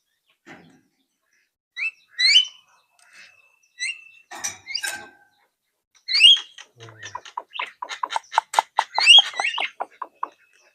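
A Javan myna (jalak kebo) kept as a cage bird gives sharp whistles and chattering calls, close and loud, in separate bursts that build into a rapid run of repeated notes.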